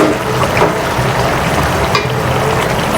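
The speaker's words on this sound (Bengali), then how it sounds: "তো এই তো এখন হচ্ছে কাঁচা মরিচগুলো দিয়ে দিচ্ছি কুচি করে রেখে" Chopped green chilies hitting a hot frying pan give a steady, close sizzle with light stirring scrapes throughout, no voices.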